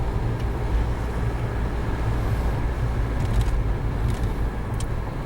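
Inside a VW with an 01M automatic transmission and fault code 00281, the car accelerates on a road and shifts up into third gear, giving a steady, fairly loud blend of engine drone and road rumble with no talking.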